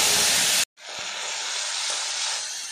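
A spice mixture goes into hot oil already tempered with cumin for a ridge gourd curry, giving a loud, dense hiss and sizzle that breaks off for an instant and then continues strongly.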